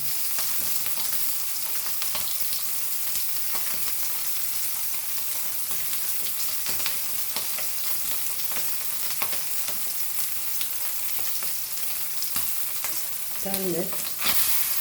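Lady fish coated in rava (semolina) fries in a pan, giving a steady, dense sizzle and crackle throughout. A brief scrape or stir comes near the end.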